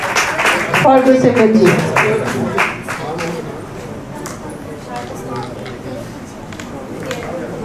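Audience applause at an award ceremony, a burst of clapping that swells near the start and then thins into scattered claps under a speaker's voice.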